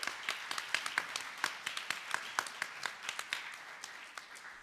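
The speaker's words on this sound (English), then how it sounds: "please give yourselves a round of applause for the good work that you do" At a citizenship program's morning gathering, an audience applauds: a thinning run of distinct claps with a rhythmic, sparse quality, fairly close, tapering off toward the end.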